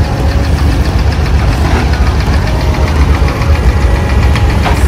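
A motorboat engine running steadily during a boat ride in Dubai, loud and close with a constant throbbing drone that never lets up.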